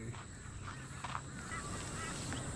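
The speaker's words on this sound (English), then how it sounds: "I can hear a grey butcher bird, but I can't see it." A grey butcherbird calls in a supermarket simulator game, faint warbling notes set against a steady hiss and low ambient hum, with no voices.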